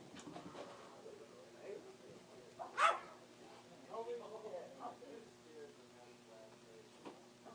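A dog gives a single sharp bark amid quiet talking, with faint yips and soft vocal sounds around it.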